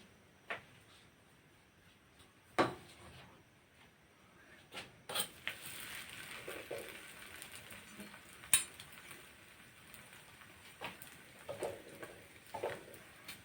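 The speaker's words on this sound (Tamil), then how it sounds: "கல் நல்லா சூடாயிருச்சு இப்போ நம்ம சப்பாத்தி போட்டு எடுத்துடலாம்" Indian oregano chapati cooking on a hot stone griddle, a faint intermittent sizzle broken by sparse clicks and clatter of utensils, quiet and close.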